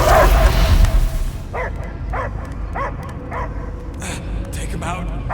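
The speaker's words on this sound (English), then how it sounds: "I hear only barking." Repeated dog barks and yips, evenly spaced and moderately loud, from a dog in the Guardians of the Galaxy video game, following a loud burst of game sound and under a steady noisy background.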